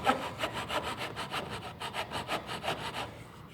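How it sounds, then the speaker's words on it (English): A wood rasp undercuts wooden crown molding in quick, rhythmic back-and-forth strokes, a close, scratchy rasping repeated steadily for several seconds with no talking. "the rasp is really slow"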